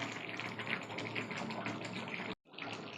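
Water pours steadily from close range into a pan of chicken being cooked with green chillies, a continuous gushing flow that cuts off abruptly near the end, then a softer trickle resumes.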